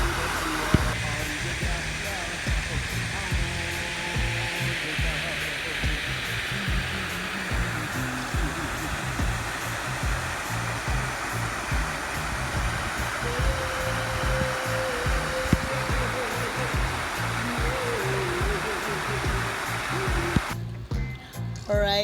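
A waterfall at Abeokuta Paradise Nature Park roars nearby, a dense, continuous rush of falling water that stays steady and loud throughout.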